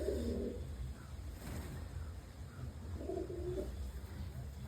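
Pigeons coo softly in two short bursts at the start and near the end, over a steady low background hum, with no talking.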